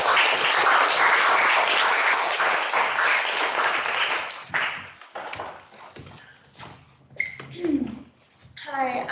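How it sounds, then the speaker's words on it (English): Audience applause rises for students being welcomed up at a Grades 8-9 school gathering, a dense wash of clapping that fades over several seconds as scattered voices and stage noise take over. "Let's give them a round of applause and welcome them up."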